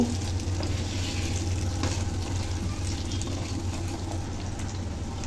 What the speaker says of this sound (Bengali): মাছ আর আলুটাকে এই মশলার মধ্যে আমি কিছুক্ষণ এভাবে কষিয়ে নেব।